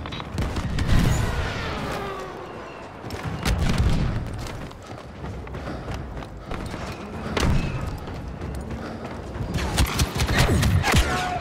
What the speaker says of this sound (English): Artillery units, direct your fire on that walker.